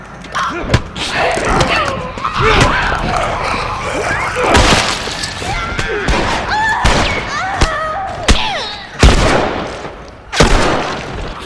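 Gunshots ring out in The Last of Us amid combat, sharp loud cracks scattered irregularly through the scene, mixed with thuds, scuffles and a voice.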